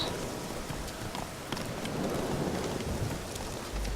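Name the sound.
horse hooves clip-clopping in Witcher 3 video game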